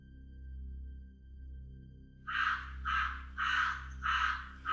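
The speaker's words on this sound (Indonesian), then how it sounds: "kenapa banyak banget suara gagak sih?" Several crows caw in a run of five loud harsh calls, evenly spaced and close, over a faint low background hum after a quiet opening.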